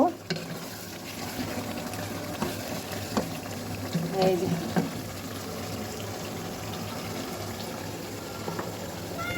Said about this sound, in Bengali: এখানে যে আদা রসুন বাটা আমি দিছি সেটা কিন্তু এই ভাজা ভাজা হয়ে এটার গন্ধটা চলে যাইতেছে